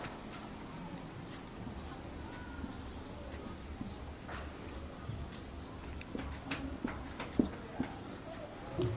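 A pen scratches across paper as a word is handwritten in Hindi script, with soft close strokes and small taps forming an irregular rhythm at low volume.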